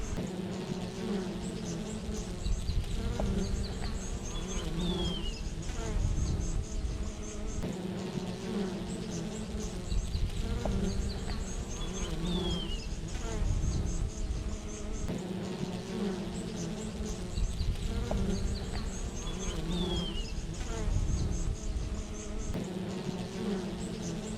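Honey bees buzzing steadily around a beehive during an early spring inspection, a dense close drone that continues throughout with occasional louder passes.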